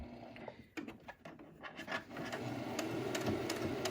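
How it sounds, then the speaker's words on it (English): A sewing machine top stitches along the edge of a fabric face mask to form a channel, running in short bursts of rapid stitching that settle into a continuous close mechanical whir. "all we're gonna do around here is top stitching and make the channel"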